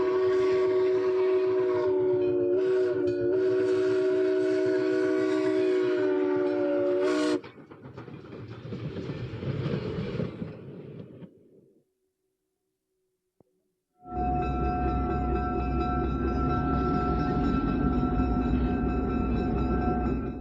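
Steam locomotive 1630 running at the Illinois Railway Museum, a long loud whistle blast followed by rumbling movement, a short gap of near silence, then another sustained whistle over heavy rolling train noise.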